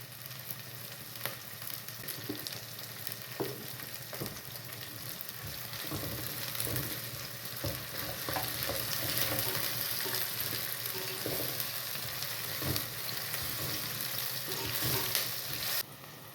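Onions frying in a pot for tomato soup give a steady close sizzle, with scattered stirring scrapes and clicks throughout and no talking.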